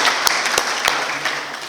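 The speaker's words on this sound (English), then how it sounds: "Let's give Sandra a nice applause" A presentation audience gives a brief burst of applause for a presenter, several distinct claps standing out from a loose scattered patter, fading after under two seconds.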